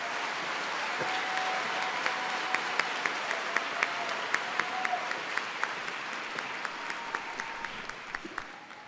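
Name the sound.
audience applause for graduating master's students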